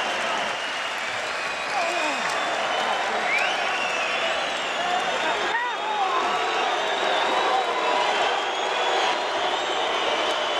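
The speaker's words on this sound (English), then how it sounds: "Crowd boos Byrd, or some do anyway" An arena crowd at a Chris Byrd versus Jameel McCline heavyweight boxing match fills the hall with a sustained roar of booing and mixed shouting, steady and loud throughout, with a commentator's voice faintly under it.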